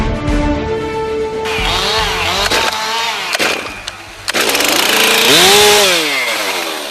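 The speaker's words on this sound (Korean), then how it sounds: "톱에 시동을 걸고 본격적인 작업을 시작합니다." Chainsaw starting and revving while cutting larch trees roughly 40 years old in a forest logging site, its engine whining up and down in pitch, close and loud, with a few sharp knocks between the revs.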